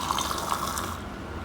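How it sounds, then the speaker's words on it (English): Water is poured into a glass beaker holding an egg, a steady close-up gush that fades slightly as the pour finishes. "Fill one beaker to half the beaker"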